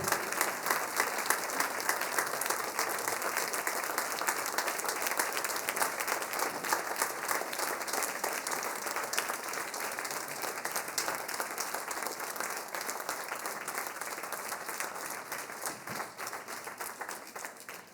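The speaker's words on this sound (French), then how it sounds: "Magnifique, vous pouvez les applaudir." A concert audience applauds the Cassel Harmony orchestra at an autumn concert, a steady, even roll of many hands clapping throughout, fairly distant and uniform with no voices over it.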